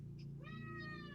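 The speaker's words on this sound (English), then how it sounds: "Oh my god, that's my cat, Douglas." A cat gives a single short meow, faint and slightly distant, over a steady low background hum from a live computer game mapping session.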